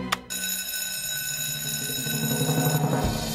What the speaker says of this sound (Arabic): حسنا حان وقت إطلاق الإنذار